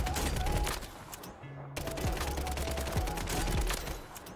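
WSP9 submachine gun in Warzone firing rapid bursts of automatic fire, loud and close, with brief pauses between strings of shots and gameplay ambience behind.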